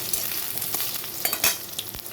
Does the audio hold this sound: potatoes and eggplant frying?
yes